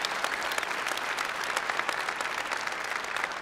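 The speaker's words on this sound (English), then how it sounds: "You ought to be clapping" A church congregation claps together in sustained, dense applause, loud and even throughout with many hands overlapping and no voices rising above it.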